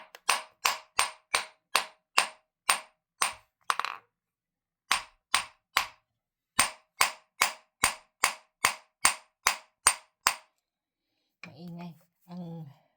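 A hammer strikes a hard crystal in a rapid series of sharp, loud metallic knocks in bursts of several blows, then a brief stretch of speech near the end.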